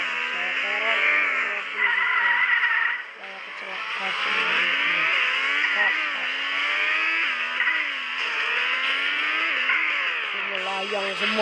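Racing video game car with a screeching tire skid and whining engine revs, sliding and swerving continuously at close range, with a person speaking over it.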